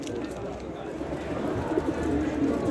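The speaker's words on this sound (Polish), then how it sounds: "A tu zobaczcie, to są te porszaki. Przepiękne gołębie." Low, soft cooing of Porsche-line racing pigeons murmurs steadily beneath a noisy pigeon show background in Katowice, with a voice talking over it.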